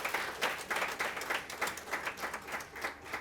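Audience applause at an energy-sector women's event in Lagos, a moderate steady patter of many hands clapping for a few seconds with slight rises and falls, no voices over it.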